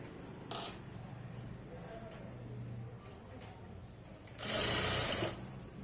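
A sewing machine stitches folded fabric in a short, loud whirring run near the end, after a quieter stretch with faint handling noises.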